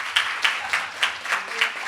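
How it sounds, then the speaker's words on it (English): A conference audience claps for a finance panel, with dense, steady applause and regular bursts of louder clapping, fairly close and filling the room. "Let's give this panel a round of applause."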